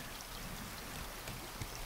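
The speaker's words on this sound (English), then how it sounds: "Oh goody, it's raining today." Rain falls in the Raft survival video game, a soft, steady patter and hiss at low level lasting the whole moment.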